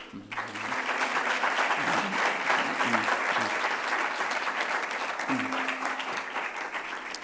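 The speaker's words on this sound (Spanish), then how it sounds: "tributemos un fuerte aplauso a nuestro presentador y a nuestra presentadora" Large auditorium audience applauding the two presenters at a university session, dense sustained clapping for several seconds, close and loud, fading slightly at the end with faint voices underneath.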